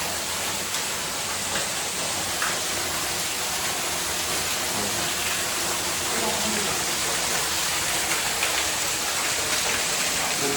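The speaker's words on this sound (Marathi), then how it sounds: "फुल पाणी पडतो इकडे वरून" A monsoon jungle waterfall pours down from above, producing a loud, constant broadband roar of falling water that fills the whole stretch without pause.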